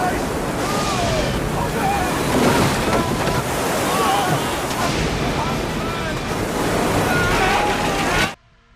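Violent storm waves roar on the Pacific as Robinson Crusoe's ship strikes a reef and wrecks in a film scene; a loud, continuous wash of surf and wind builds steadily, then cuts off abruptly.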